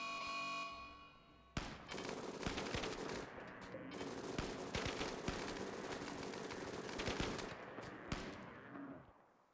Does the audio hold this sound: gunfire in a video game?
yes